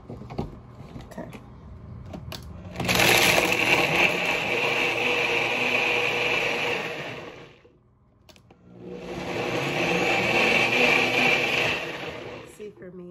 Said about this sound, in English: when I want something sweet, all I gotta do is put it in the blender